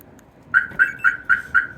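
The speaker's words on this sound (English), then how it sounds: "you're hearing that extra chirp because we were actually testing. We triggered the alarm." A Compustar Q9 SS remote-start alarm on a mobile office vehicle gives five quick, evenly spaced electronic chirps, loud and close, with no other sound around them.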